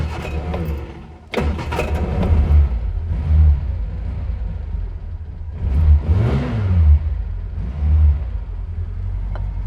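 A car engine cranks and catches after a brief pause, then revs in several rising and falling bursts before a test drive, loud and close with no talk.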